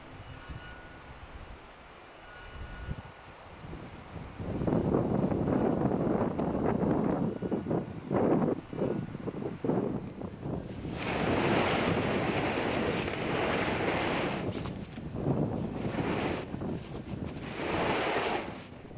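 Arctic Ocean surf breaks and washes along the shore near Whitefish Pingo, with strong wind buffeting the microphone. The roar starts faint, then swells into loud, continuous crashing waves.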